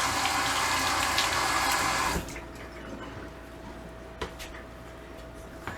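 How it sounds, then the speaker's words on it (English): Tap water runs steadily into a kitchen sink during hand washing, a loud even hiss for about two seconds before it is shut off, followed by quiet room tone and a few faint clicks. "let me wash my hands up real quick."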